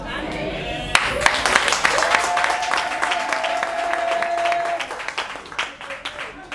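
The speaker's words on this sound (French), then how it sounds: "c'est la première fois que vous avez vu une loi applaudie par le député et la population" Applause from a deputy and the audience celebrating a law, a dense burst of clapping that breaks out suddenly and carries on loud for several seconds, with crowd noise and a voice over it before it thins out.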